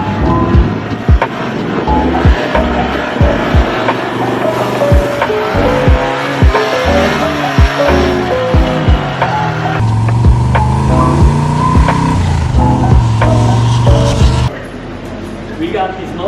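A loud AC Cobra engine with a raw, unmuffled straight-pipe exhaust roars and revs throughout, the tone rising and dropping with the throttle.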